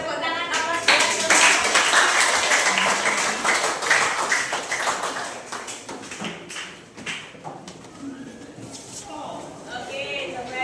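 A classroom of students gives a round of applause after a classmate sits down, the clapping loud at first and then tapering off, with voices talking over it.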